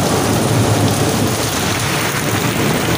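Heavy rain pours down in a dense, steady roar with rumbling thunder beneath it, loud and continuous, with no voices.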